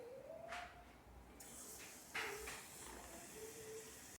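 Bolinho de chuva dough balls fry in hot oil, giving a faint, steady sizzling hiss with a few brief louder spurts.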